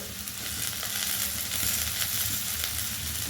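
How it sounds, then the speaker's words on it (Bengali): Tomato added to onions frying in hot oil gives off a steady, fairly quiet sizzle, continuous with slight swells, with no voices over it. "পেঁয়াজটা একটু ভাজা ভাজা মতো হয়ে গেলে এর মধ্যে দিয়ে দিচ্ছি আমি টমেটো"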